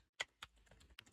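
A few quiet keystrokes on a computer keyboard, with three distinct clicks spaced across a short stretch over faint background noise.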